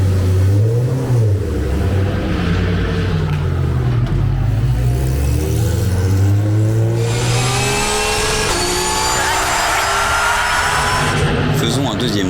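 Audi R8 LMS GT2 race car at speed on a lap of the Hockenheim circuit, with a loud, continuous engine note that rises and falls through gear changes and climbs steeply to a high-revving scream near the end.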